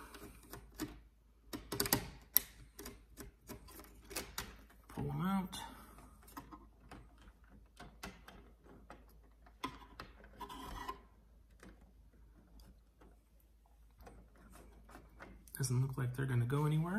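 A panel screwdriver loosens the wall screws of a thermostat being swapped for a Google Nest: close, quiet scraping and ratcheting clicks in uneven bursts, with a person talking at moments in between.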